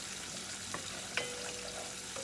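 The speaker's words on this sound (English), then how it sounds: "Sauteing up my onion, lots and lots of onion," A pan of lots of chopped onion sautéing with flour sizzles in a steady, even hiss, close up, with a couple of faint clicks of stirring and no talking.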